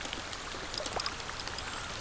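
Large raindrops, almost like hail, pelt a fishing boat out on the water, a dense spattering patter with sharper individual drops standing out, heard alone without talk.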